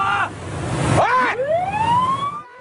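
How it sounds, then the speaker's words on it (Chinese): A ship's alarm siren sounds during a collision at sea between a Japanese patrol vessel and a Chinese fishing boat, loud, close wailing tones that sweep up and down, with a brief break before the wail resumes. "背景听到不停有警报声"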